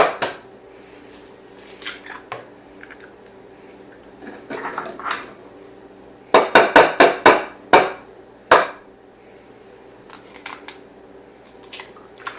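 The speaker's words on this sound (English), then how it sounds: "So we're going to crack 6 eggs." Six eggs cracked one after another for homemade bread pudding: a quick run of sharp, close taps and cracks in a quiet kitchen, with a few stray clicks before and after.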